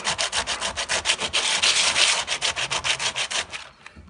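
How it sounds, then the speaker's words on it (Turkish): Rhythmic back-and-forth sandpaper strokes on a Suzuki Carry's car body, wiped with synthetic thinner, close and steady, a rough abrasive scratching that repeats evenly for several seconds before stopping. "Tinerle buraları zımparalıyoruz"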